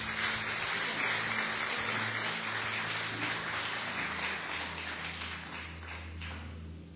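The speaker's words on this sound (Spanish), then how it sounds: "Denle ese aplauso fuerte al Señor," Congregation at a church service claps for the Lord, a soft, fairly distant wash of applause that gradually fades while a low musical hum from instruments sustains underneath.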